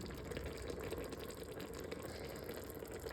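Water pours into a cooking pot, a faint, steady rushing and gurgling fill that runs without a break and with no speech.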